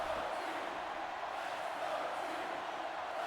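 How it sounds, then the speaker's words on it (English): Crowd at a football game cheering on the Hamilton Rollers' defense, a steady distant roar of many voices that stays even throughout, faint and broad, with no commentary over it. "The Rollers cheering on their defense"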